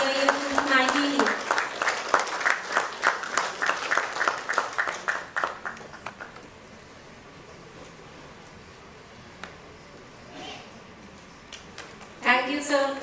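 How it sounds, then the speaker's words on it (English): Audience applause at a World Standards Day awards presentation rises after a speaker finishes and continues as a soft, diffuse patter before a voice returns. "a huge round of applause"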